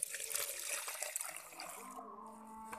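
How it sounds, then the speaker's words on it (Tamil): Water poured onto ponnanganni keerai plant cuttings, a close, steady splashing trickle that runs throughout and thins toward the end, with no talk. "இப்போ வந்து நம்ம வந்து இதில் வந்து தண்ணி ஊற்றிக்கலாம்."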